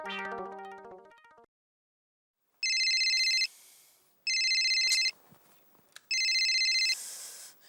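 A telephone ringtone sounds in three loud electronic bursts separated by short pauses, after a brief melodic tone at the start, with no talking.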